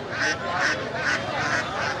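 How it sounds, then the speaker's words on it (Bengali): Ducks at a rural char-area poultry market give four loud, evenly spaced honking quacks close by, with faint background market murmur. "পাশে মোটামুটি অনেক হাঁস আছে।"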